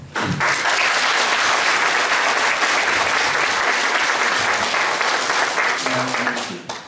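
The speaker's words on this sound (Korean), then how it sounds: "반가운 마음으로 이렇게 박수 쳐주시면 감사하겠습니다." A lecture audience of men breaks into full, sustained applause: a dense, loud wash of many hands clapping continuously at an even level, tapering slightly at the end as a voice begins.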